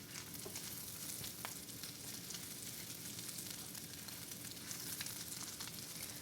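Cured, smoked bacon frying in a pan, a dense continuous sizzle and crackle with scattered pops, steady and close with no talk.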